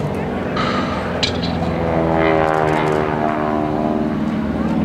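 Blue Angels jets make an inverted pass at an airshow homecoming, a loud roaring engine drone with shifting pitch sweeping past, while a person talks over it.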